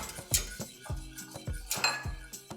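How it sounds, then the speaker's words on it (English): A whisk clinks rhythmically against a pan, several quick metallic strokes in steady succession, working a butter sauce for a Texas striped bass dish, close and fairly quiet with no talking. "whisking constantly until you get to the desired thickness"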